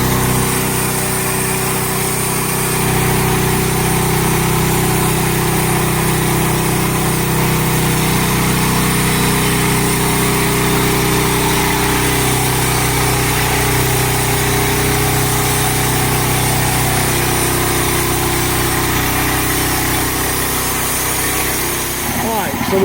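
A sawmill cuts a log into flitches with a steady loud engine drone and blade whine throughout, and a voice is faintly heard under the noise.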